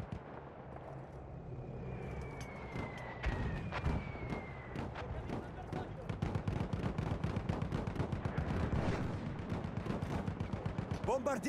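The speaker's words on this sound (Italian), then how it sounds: "Mitragliatrice nemica!" Rapid bursts of enemy machine gun fire ring out in the World War I shooter Battlefield 1, mixed with heavier thuds and distant battle noise and growing denser toward the end. A game voice calls out briefly.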